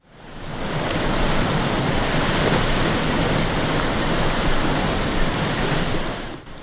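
Ocean waves on the beach at Las Terrenas, a loud, continuous surf roar close by that swells in and stays dense until it tails off at the end, no voices.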